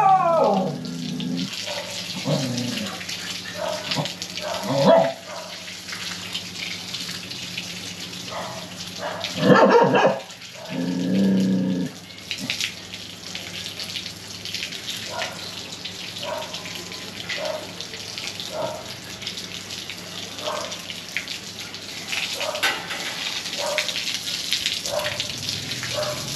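Tap water runs while dogs are bathed at a home in Ca Mau, Vietnam, a steady splashing stream broken by a few barks and yelps, with people talking intermittently nearby.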